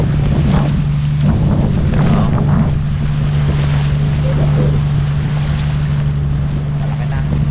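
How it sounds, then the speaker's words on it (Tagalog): Large waves slap against a small fishing boat on Taal Lake, with continuous surf wash, wind buffeting the microphone and a steady low motor drone throughout. "Kalaot at lumalaki na po yung alon."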